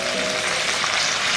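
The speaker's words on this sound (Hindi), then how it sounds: "अब इसी तेल में हम हमारा मसाला पेस्ट और सारे पाउडर मसाले फ्राई करेंगे" Spice paste and powdered spices such as red chili and garam masala frying in hot oil for a mutton gravy, a dense, even sizzle heard close up without talk.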